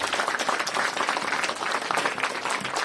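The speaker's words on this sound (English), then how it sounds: "Let us clap for ourselves only." Audience applause at a school class project presentation, a dense, steady burst of many hands clapping close and loud throughout.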